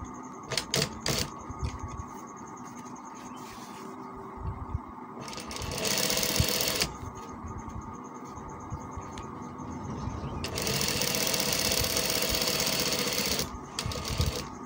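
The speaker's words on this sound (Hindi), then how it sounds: "ये अब मैं दूसरे बाजू कफ के ऊपर भी सिलाई लगा" Stitching runs along the sleeve cuff of a kameez on a sewing machine, with several bursts of motor whir, longer runs near the middle and the end, and short clattering starts in between.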